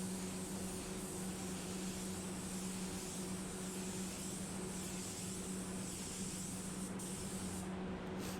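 Spray gun laying an effect coat of black paint on a car, a steady, even hiss that stays constant and fairly quiet throughout with no pauses.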